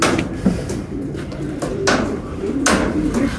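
Pigeons coo softly a few times among faint rustling and clattering nearby.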